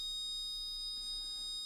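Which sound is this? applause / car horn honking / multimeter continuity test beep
multimeter continuity test beep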